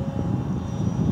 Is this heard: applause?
no